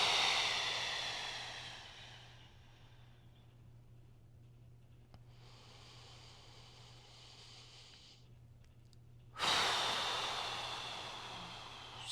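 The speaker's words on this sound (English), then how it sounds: "Blow it out, pursed lips." Two long, airy exhalations through pursed lips, close and hissing, each fading slowly, with a softer breath between them and no talking.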